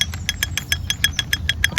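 A toy tractor from an engineering play set makes a rapid, regular mechanical clatter, close and fairly loud, its bright clicking bursts repeating about seven times a second over a low rumbling hum.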